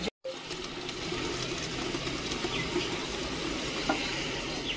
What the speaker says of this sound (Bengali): এবারে কলটা ছেড়ে নেব, গামলিটা ভরে দেখাবো।